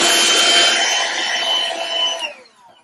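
A hand vacuum sucking up basswood scraps from a cutting mat, a loud continuous whirring hiss close by that runs steady and then winds down at the end.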